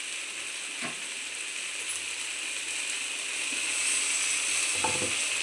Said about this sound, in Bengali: এই আমার পুঁই শাকটা যে পুরো ভাজা ভাজা হয়ে গেছে